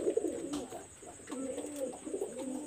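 Lalpari high flyer pigeons coo softly at close range. There are a few low, rolling coos with short gaps between them, and a faint background hiss runs throughout.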